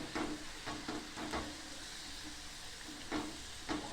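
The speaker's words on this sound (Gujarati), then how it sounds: "આપણા બટાટા ઓલમોસ્ટ હવે તળાવા લાગ્યા છે" Low, steady frying hiss with occasional scraping stirs as potatoes for dum aloo cook gently in oil, with no voices.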